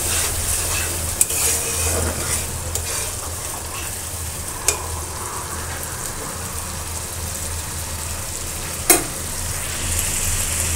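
Chili and spice masala fry and sizzle in a pan with a little water added, a steady crackling hiss broken by a few sharp clinks of the spoon against the pan.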